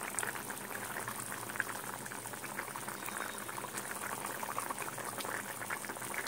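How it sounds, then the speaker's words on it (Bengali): A broccoli and potato curry boils hard in a pot, giving a continuous close bubbling and popping that stays even and unbroken, with no voices. "এই দেখো তরকারিটা এইভাবে টকবগিয়ে ফুটছে"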